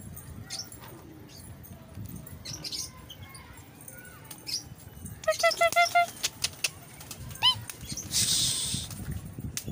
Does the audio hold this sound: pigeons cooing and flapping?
yes